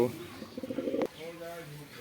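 A fancy lakka pigeon in a loft gives a short, soft cooing call, close by and fairly faint, following a brief bit of a man's speech.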